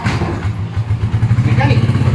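A motorcycle engine fired with the electric starter, settling into a steady, close, low mechanical idle that pulses evenly for a couple of seconds.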